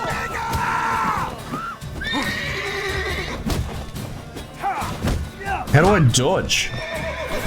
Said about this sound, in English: The horses don't like this.